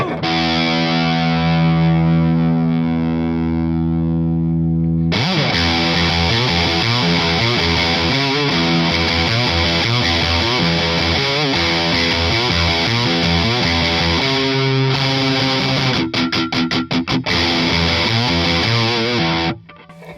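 A distorted electric guitar plays with a bright, cutting tone, starting on a held chord, then moving into busy riffing and a few choppy strums.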